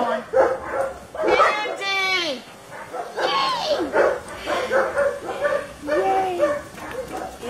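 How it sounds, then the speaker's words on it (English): A little pit bull barks, yips and whimpers in short excited bursts while people talk over it nearby. "look at that little pit bull"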